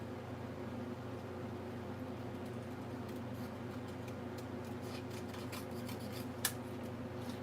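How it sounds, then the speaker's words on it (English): Cutter Bee scissors cut through heavy 110-pound paper in a series of quick, crisp snips that grow more frequent toward the end, with one sharp louder snip, all over a steady low room hum. "me try these Cutter Bee scissors."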